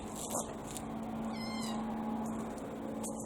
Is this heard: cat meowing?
yes